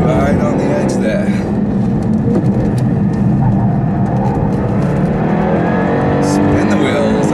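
A Jaguar coupe launches hard with its wheels spinning, a loud, continuous engine roar from inside the car, with people talking over it.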